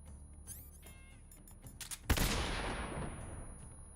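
Stun grenade detonating in Metal Gear Solid, a sudden loud broadband blast after a quieter stretch of faint game sounds, followed by a long hissing, ringing decay that fades over about two seconds.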